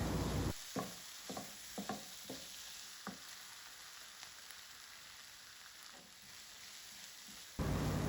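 Onion masala with garam masala and other spice powders sautéing in oil in a pan, a faint steady sizzle broken by a series of scraping stirs early on, then quieter frying.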